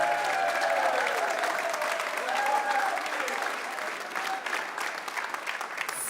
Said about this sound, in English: I want rounds of applause for everything here